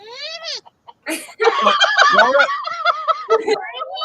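A person imitates a rooster or chicken with loud, warbling vocal crows and clucks in short bursts, close and alone.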